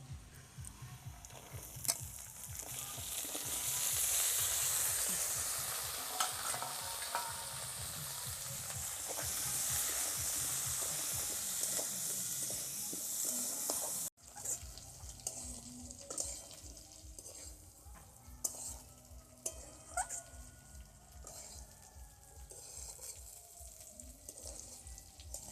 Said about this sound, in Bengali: আমি বিনস আর ফুলকপিটা ভেজে নেব ওর সঙ্গে দিয়ে